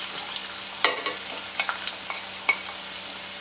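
Chopped onions sizzling in hot oil while being stirred, steady frying hiss punctuated by several light scraping clicks of a spoon against the pan, close and fairly loud with no talking.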